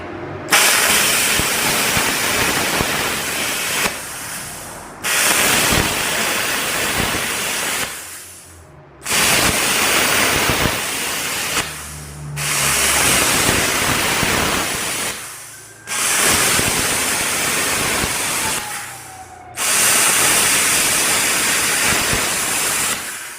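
A plasma cutter slices through expanded metal in long, loud hissing bursts, roughly five separate cuts, each a steady harsh rushing roar cut off by short pauses.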